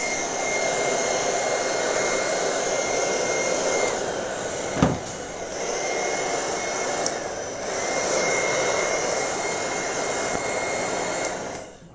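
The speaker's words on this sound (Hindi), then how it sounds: "तो उसको सुखाने के लिए मैंने लिया है हेयर ड्रायर" A hair dryer blows steadily on wet hair up close, a loud continuous whooshing roar that runs for the whole stretch with only slight dips, and no one speaks over it.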